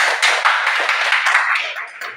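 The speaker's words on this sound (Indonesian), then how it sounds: "Beri tepuk tangan dulu Bu." Audience clapping at a school positive-culture dissemination session, a short burst of dense, fairly loud hand claps with no clear talk on top.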